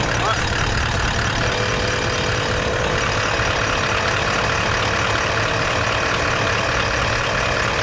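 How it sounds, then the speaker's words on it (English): An electric air pump runs with a steady, dense whirring drone as it inflates an iKamper rooftop tent, loud and continuous for the whole stretch. "So the pump's running"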